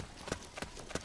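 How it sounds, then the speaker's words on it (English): Footsteps in the Metal Gear Solid 4 video game fall as three sharp, evenly spaced steps at close range, each a crisp knock over a quiet hiss of background noise. "I hear footsteps."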